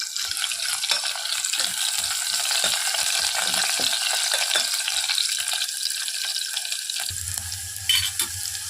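Onions and dried red chillies sizzle and crackle steadily in a hot pan for a stew of pigeon pea dal, with occasional stirring scrapes, and a low rumble enters near the end.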